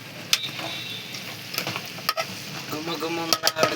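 Mutton curry frying in a pan aboard a parked lorry, a continuous sizzle broken by clanks and scrapes of a stirring utensil, louder toward the end.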